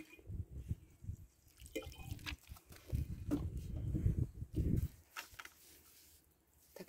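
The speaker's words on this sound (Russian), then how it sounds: "Сейчас я еще добавлю воды." Water is poured in to dilute a Plantafol foliar fertilizer solution for leaf feeding. Quiet, low splashing and pouring comes in short uneven bursts with brief pauses, close by.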